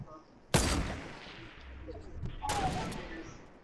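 Gunfire in a squad-based video game shootout, two sharp, loud shots about two seconds apart, each tailing off into a rolling echo across open terrain.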